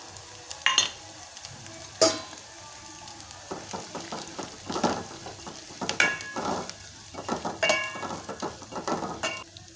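Garlic-ginger paste and crushed peanuts sizzle and fry in a pan, with steady crackling broken by repeated sharp clinks and scrapes of a spoon stirring against the metal, close and fairly loud.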